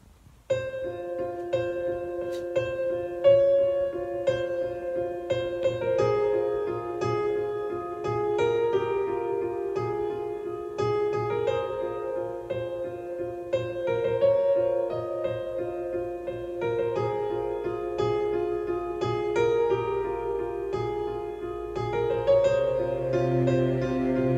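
Piano opening of a metal song, played as a steady flow of sustained chords and melodic notes with a full, resonant tone that runs continuously at an even level for about twenty-five seconds, with no voices.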